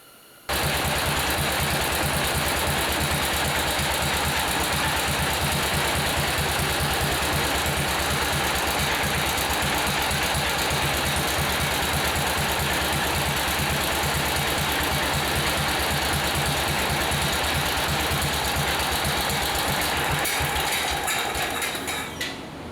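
A tractor engine idling close by, a steady rhythmic knocking chug that runs continuously with constant loudness for about twenty seconds before easing off at the end.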